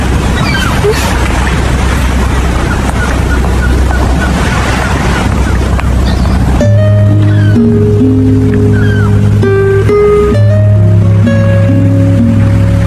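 Sea waves washing and surging continuously with loud broadband roar, like wind-blown surf at the shore, before giving way to music partway through.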